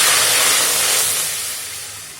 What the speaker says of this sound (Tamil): இந்த பேனில் வந்து தண்ணி ஊற்றுறேன்